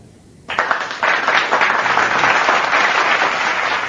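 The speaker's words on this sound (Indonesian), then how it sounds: "Dan di sini ada applause, tepuk tangan." Applause sound effect triggered from a pad on a Maonocaster AM200 audio interface, a sudden loud burst of crowd clapping that starts abruptly and sustains evenly to the end.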